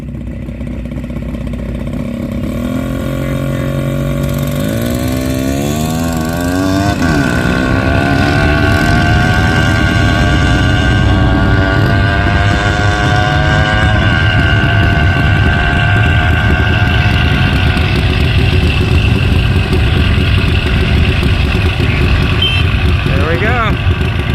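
A Duromax 208 mini bike engine with an NR Racing 292 cam roars loudly on a drag run. The engine note climbs in pitch as it accelerates, then holds a steady, buzzing wail for the rest of the run.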